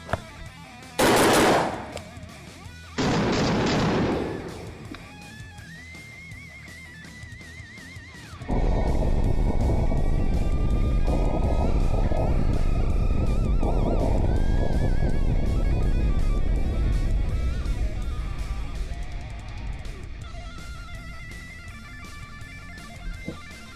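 A Derya MK12 AR-style shotgun with a 14-inch barrel fires at an outdoor range, with two sharp, loud blasts a few seconds apart, followed by a long, steady, loud roar that continues to the end.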